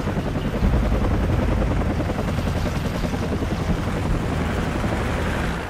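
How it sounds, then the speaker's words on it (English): Helicopter rotor chop in Call of Duty 4: Modern Warfare on Xbox 360, a loud, dense, steady whir filling the whole stretch with no talking over it. "See the old distraction helicopter?"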